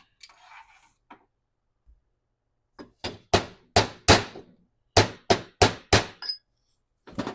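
A hammer taps a metal shield onto the front axle stub shaft of a Ram 1500 4x4's front differential: a dozen or so sharp, close metallic knocks in quick clusters, with no talking.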